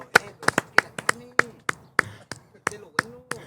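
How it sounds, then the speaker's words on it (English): A few people clap in a small room on a podcast set, giving a sparse, uneven run of sharp, close handclaps over a few seconds while voices chat underneath. "A little round of applause again."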